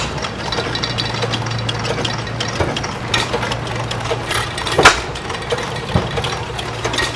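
A 1925 antique hit-and-miss engine runs at an outdoor engine and tractor show with a steady low hum and thumping beats. Knocks and clanks sound nearby, with one louder bang near the end.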